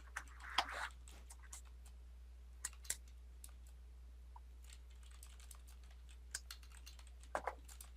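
Several people typing on computer keyboards during a webinar, scattered faint key clicks and short bursts of tapping over a steady low hum, with gaps of near quiet between.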